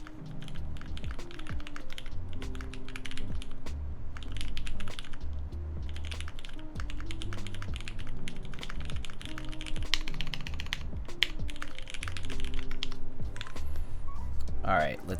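Typing on a Cyberboard R2 keyboard: a steady, fast stream of close clicky key taps runs throughout, with a voice talking now and then over a low hum.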